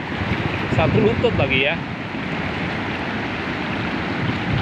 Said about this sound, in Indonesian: Begini dahsyatnya ombak di Pantai Dlodo ini ya.